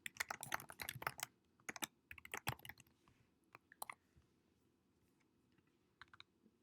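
Irregular bursts of keystrokes on a computer keyboard while code is typed, clustered in quick runs during the first few seconds, then sparser taps; close and fairly quiet, with no talking.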